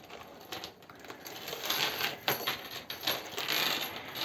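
Decorative metal chain used as a handbag handle clinks and jingles in small, irregular bursts, light and close, with no talking.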